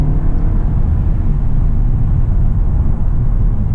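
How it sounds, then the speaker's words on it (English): A 2019 VW Arteon R-Line drives hard through corners, a constant loud cabin rumble of engine and road noise with no talk. "let's put the Arteon through its paces, some corners."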